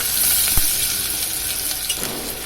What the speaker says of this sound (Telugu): ఆయిల్ వేసుకొని ఆవాలు వేసుకున్నాను ఉల్లిపాయ ముక్కలు వేసి గోల్డెన్ రంగులో వచ్చే మాత్ర వేయించుకోవాలి